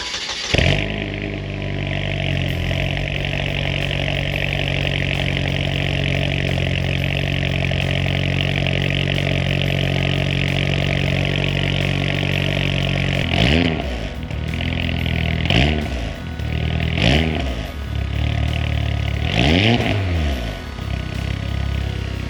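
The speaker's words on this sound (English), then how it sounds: "one thing you guys may have noticed while I have this thing idling is my AC's on and something is making a ton of noise" A 2007 Saab 9-3 with a MagnaFlow exhaust idles with the air conditioning on, holding a loud, steady drone before several short revs rise and fall near the end.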